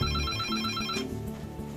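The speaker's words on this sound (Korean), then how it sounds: "모든 비상 대응을 최우선적으로 해야 되는 풀 이머전시 상황에 그 전화가 울립니다." An airport emergency telephone rings with a loud, repeating electronic ringtone pattern, close and continuous, with no voices over it.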